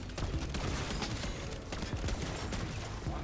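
Akimbo Gravemark pistols firing in Black Ops 6 Zombies, a dense, steady barrage of rapid shots layered with game noise, loud and continuous throughout.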